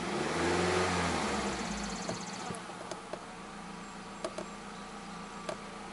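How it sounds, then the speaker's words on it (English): Engine of a 2010 Nissan Rogue AWD with a faulty CVT revving in place, loud at first and then easing to a steady idle with a few faint clicks. "Let me rev it up."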